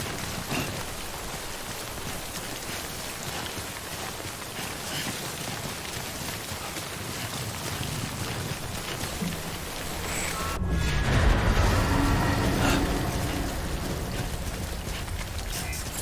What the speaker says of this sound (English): timefall damages cargo containers. Don't stay out in the rain any longer than you have to.